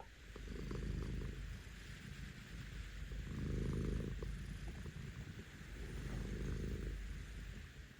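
A lap cat purrs steadily at close range, a soft rumbling drone that swells and eases in slow, regular breaths.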